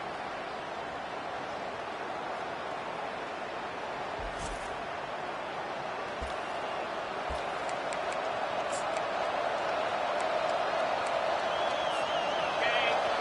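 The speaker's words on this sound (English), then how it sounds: "This crowd, full throat, spreading the eardrums and letting them know it's going to be a long day." Broad, steady roar of a full football stadium crowd at a Florida vs Florida State game, cheering continuously and swelling slightly louder toward the end, with a few faint sharper shouts and claps scattered through.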